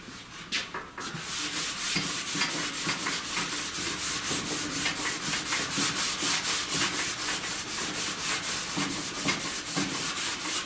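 A car's lower fender being scrubbed with metal prep to lift rust, a fast rhythmic back-and-forth rasping that starts after a brief pause and keeps an even, close, loud pace throughout.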